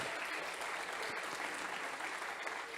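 A church congregation claps steadily and densely, forming a continuous wash of applause that is fairly quiet and distant throughout, with no break.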